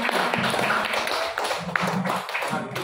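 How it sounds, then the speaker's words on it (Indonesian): Applause from a school gathering during a discussion on school vision, steady dense clapping from a group filling the whole stretch, with faint voices mixed in. "Ya, tepuk tangan buat"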